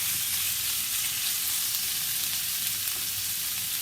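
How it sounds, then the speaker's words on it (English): Meat sizzles steadily in a hot pan on high heat for a beef steak dish, a dense, continuous frying hiss up close with no talk. "What you're gonna do is I'm gonna cook the meat first."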